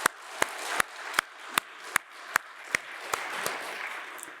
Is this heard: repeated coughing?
no